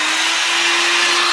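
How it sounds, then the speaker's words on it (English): Heat gun blowing hot air to dry paint on a decoupage craft piece, a loud, steady close-up whoosh with a constant motor hum, no talking. "The heat gun is just drying up quickly."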